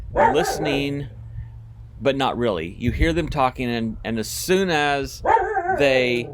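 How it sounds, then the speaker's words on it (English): Dogs bark intermittently in the background while a person keeps talking over them; the yips and woofs sit beneath the speaking voice at moderate distance. "I don't know what the dogs are barking at."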